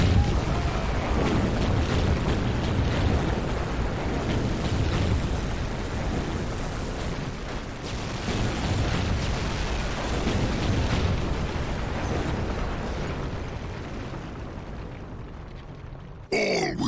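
Rumbling explosions and bomb blasts from the video game Warhammer 40000 Dawn of War Dark Crusade fill the whole stretch, a dense, loud, continuous low roar of battle with faint voices, cut off sharply near the end.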